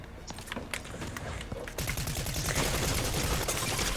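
Gunfire in a video game, scattered sharp shots giving way to a loud sustained rapid burst of automatic fire in the second half.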